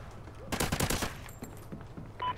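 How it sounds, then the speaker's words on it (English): Automatic gunfire in the video game Call of Duty Ghosts, a rapid burst of shots followed by scattered faint game effects. "he keeps firing that damn gun."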